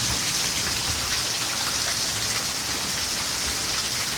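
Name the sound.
heavy rainstorm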